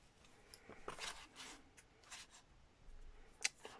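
Scissors trim journal pages in a few quiet, close snips among soft paper rustles and rubbing, faint and with no talking.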